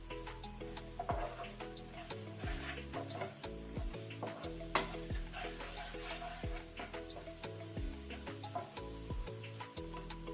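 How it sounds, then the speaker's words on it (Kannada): Cumin powder fries with coriander powder in a rajma masala over a low flame, a soft steady sizzle with repeated scraping stirs of a spoon in the pan, quiet and close. "ಅದರ ಜೊತೆನೆ ಜೀರಾ ಪೌಡರ್ ಹಾಕೊಳ್ಳುವ. ಸ್ವಲ್ಪ 1 ಸೆಕೆಂಡ್ ನಾವು ಇದನ್ನು ಫ್ರೈ ಮಾಡ್ಕೊಳ್ಳುವ."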